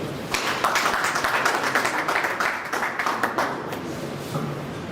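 An audience at a live-streamed event for a food processing industrial park gives a burst of applause, dense moderate clapping that builds quickly and fades out over a few seconds.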